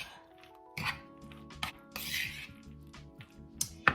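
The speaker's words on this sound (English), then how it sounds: "Just stir it up." A spoon scrapes and clinks around a pot while food is stirred, making a quiet series of intermittent metallic knocks and rubbing sounds with short gaps between them, with no voices.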